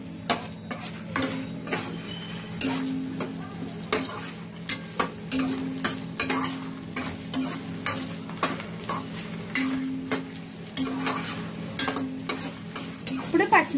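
Onions frying in a pan, with a steady sizzle under repeated sharp scrapes and clinks of a spoon stirring against the metal, at a fairly even rhythm throughout.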